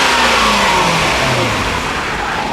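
A Lexus SC430's 4.3-litre twin-cam V8 revs up and accelerates, a loud, steady engine note rising in pitch through the gears with no talk over it.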